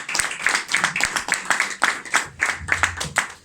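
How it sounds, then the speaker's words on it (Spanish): An audience at a poetry gathering gives a round of applause, with distinct, close, rhythmic hand claps filling the short span. "así que fuerte el aplauso para Jenny, para que tome posición."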